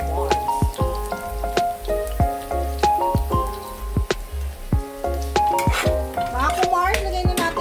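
Chopped garlic sautés in a pan, cooked the old provincial way for a Filipino beef kinamatisan. A steady sizzle runs under loud background music with a thumping beat, with occasional stirring clatter.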